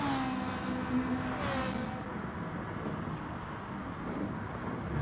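Race cars lap the Nurburgring GP circuit in a video game, including a Porsche Cayman, with a steady engine drone and a brief rising whine as a car passes, heard alone at moderate loudness.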